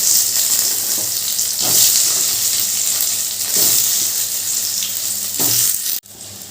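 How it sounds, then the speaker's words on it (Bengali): Potatoes frying with salt in hot mustard oil in a kadai, a loud, close, continuous sizzle with occasional stirring scrapes, ending in a sudden drop to a quieter hiss. "তেলটা গরম হয়ে গেছে এবার ওই তেলে দিয়ে দিচ্ছি আলু এবার আলুগুলো একটু নুন দিয়ে ভেজে নেবো"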